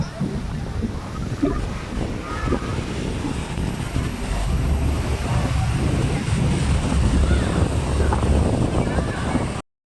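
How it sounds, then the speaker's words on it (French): Steady wind rushes across the microphone on a tour boat cruising the Seine in Paris, a continuous low roar lasting throughout, with a guide talking over it. "Voilà, il y a des vents."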